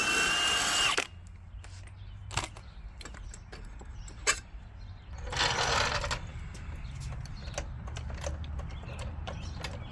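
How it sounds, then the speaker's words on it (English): A power tool whirs in short bursts removing 13 mm bolts from a Ryobi electric riding mower, with a longer run in the middle, amid clicks and clanks of metal work nearby. "Wised up, brought some power tools into the mix."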